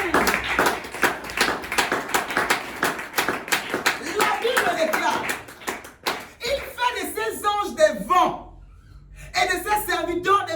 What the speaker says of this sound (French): Acclame pour l'Esprit de Dieu.